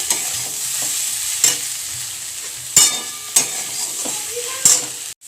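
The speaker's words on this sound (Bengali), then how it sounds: "আঁচটা একটুখানি বাড়িয়ে দেবো, বাড়িয়ে দিয়ে কিন্তু আমি নাড়াচাড়া করে ভাজবো" Gima greens and potatoes fry in a wok that has started sticking. The sizzle is soft and continuous, and several sharp scrapes and knocks of a spatula stirring come at irregular intervals.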